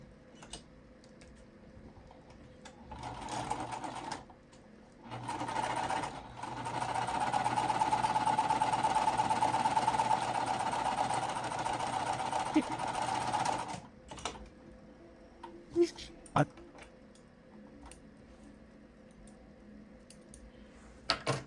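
A sewing machine stitches quilt pieces in a steady whirring run of several seconds after short starts, followed by scattered clicks and handling noises, close and alone.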